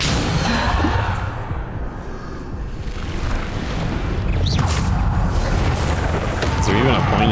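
Bombardo explosion spell going off in the Hogwarts Legacy video game, a loud booming blast with crashing debris amid rumbling combat effects, while a player keeps calling out spell names.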